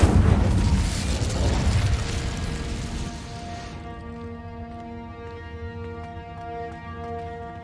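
Incendio fire spell cast in Hogwarts Legacy, a loud booming burst of flame that fades over a few seconds into a sustained tonal shimmer, with no talk.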